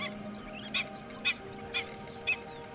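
Birds at Vellode Bird Sanctuary give honking, goose-like calls, four evenly spaced calls over a low steady background hum, moderately distant and faint.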